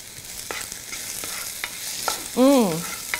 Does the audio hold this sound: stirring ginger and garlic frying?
yes